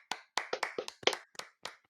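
Applause in a small setting, just a few sharp, separate hand claps in an uneven burst, close and dry, with silence between each clap.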